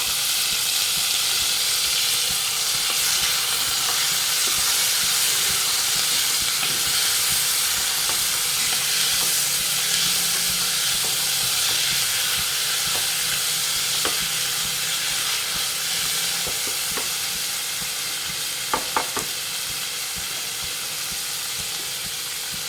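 Tomato pieces and onions fry in a pan for a baby corn curry, giving a steady, close sizzle with hissing steam that runs through the whole stretch, with a few faint clinks near the end.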